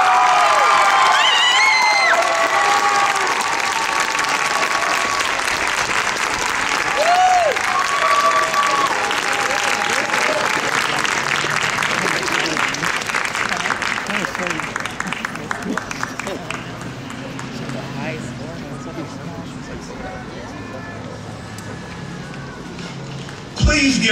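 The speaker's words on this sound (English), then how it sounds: "Another round of applause to show your support for all of these outstanding performers." An audience in a large venue applauds and cheers after a marching band performance at a Class 1A championship, loud sustained clapping with whoops and shouts that slowly thin out as a voice speaks over it.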